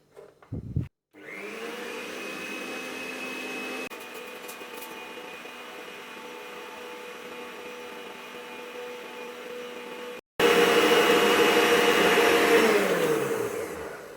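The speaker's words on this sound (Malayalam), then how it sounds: "ബീറ്റ് ചെയ്യാനുള്ള ബ്ലേഡ് ഫിക്സ് ചെയ്തിട്ട് നമുക്കിതൊന്ന് ബീറ്റ് ചെയ്തെടുക്കാം." An electric beater whirs loudly and continuously as it whips eggs with lemon juice for an orange cake, starting after a brief clatter, then cutting out briefly and returning at a higher, louder speed.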